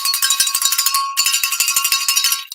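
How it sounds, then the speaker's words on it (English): A bell rung during a live stream clangs in rapid, rhythmic strikes, loud and close, with a brief break midway before the ringing resumes and then stops. "Okay, so you now ring the bell."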